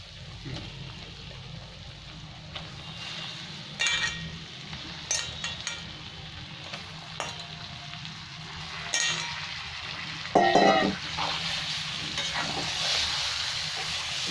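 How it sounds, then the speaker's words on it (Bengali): Chicken pieces for korma sizzle steadily in a pan, with intermittent clinks and scrapes as they are stirred, close and fairly quiet, with no talking. "চিকেনটাকে একটু ভালো করে ভেজে নেবো এর সাথে।"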